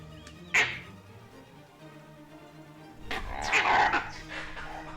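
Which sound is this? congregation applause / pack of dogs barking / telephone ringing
pack of dogs barking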